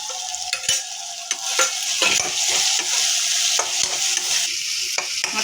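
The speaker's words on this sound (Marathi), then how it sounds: "आता हे 1 मिनिटभर परतून घ्यायची मिरचीची पेस्ट" Chili paste sautés with red chili powder and turmeric in a pan for a paneer cheese paratha, a steady close sizzle broken by repeated spatula scrapes and light clinks of stirring.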